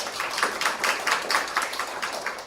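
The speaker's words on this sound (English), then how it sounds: "we give them a big applause to Dr." Audience applause after an academic talk on building a COVID-19 digital archive with AI, a steady patter of many hands clapping at moderate level, sustained without voices over it.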